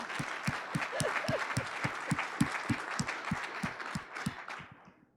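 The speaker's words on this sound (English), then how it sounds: "everyone wants to clap some more" A conference audience keeps applauding after a talk, close, moderately loud clapping with distinct sharp individual claps over a soft steady wash, tapering off at the very end.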